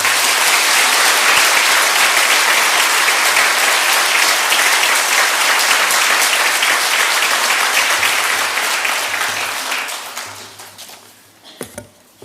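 A church congregation applauds loudly and steadily for about ten seconds to welcome an elder giving a testimony at a Korean church service, then the clapping thins out and fades to a few scattered claps.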